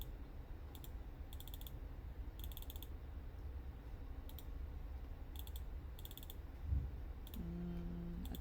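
Computer mouse clicks sound in short, crisp clusters at irregular intervals, quiet and close against a soft steady room hum, with a brief faint thump and a low electronic tone near the end.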